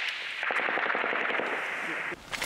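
Heavy 12.7 mm machine gun fires a rapid sustained burst of dense, harsh shots amid an artillery barrage, loud and close, cutting off abruptly near the end.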